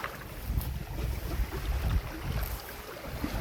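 Wind blowing across a beach on a fine day, a steady low rumble and buffeting roar with brief gusts, loud and close like wind hitting the microphone, with no talking.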